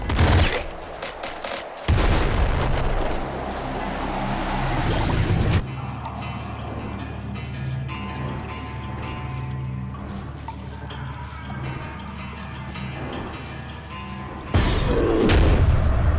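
Grenade gun fire in the Nuclear Throne video game: loud, dense bursts of booming shots and blasts in long volleys, broken by a stretch of steady hum, then a sudden burst again at the end.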